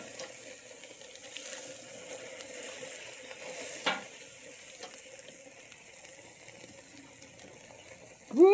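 Nolan Ryan tomahawk cowboy steak sizzling on a grill running over 400 degrees, a faint steady hiss with a few scattered crackles and a sharp clack near the end, no talk.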